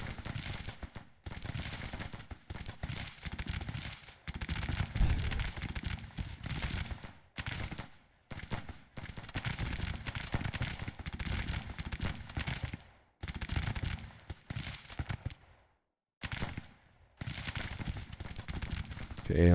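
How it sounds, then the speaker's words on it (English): An Ohio state militia fires muskets on a brigade in Grand Tactician, a Civil War strategy game: dense ragged volleys crackle continuously with brief gaps, loud and close, while someone talks over them. "The Ohio State Militia is firing on Weisinger's brigade."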